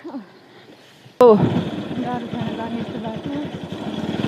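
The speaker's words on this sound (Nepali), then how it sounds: "छिटो चढा बाइक आइसक्यो" A motorcycle engine starts abruptly and keeps running loudly with a throbbing idle rumble; faint talk is heard before it kicks in.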